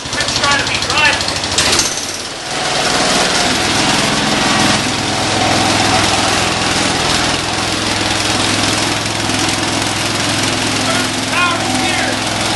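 A Cub Cadet 147 garden tractor's small engine runs loud and close after a cold start, roaring with a harsh, rattling buzz, briefly dropping off, then holding a steady high-revving drone throughout.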